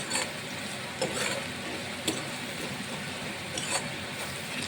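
A utensil stirs spices into garlic dal fry in a pan, making repeated scraping and clacking strokes over a faint steady sizzle, close and fairly quiet.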